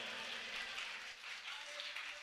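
A church congregation claps together in steady, continuous applause that sounds somewhat distant and muffled.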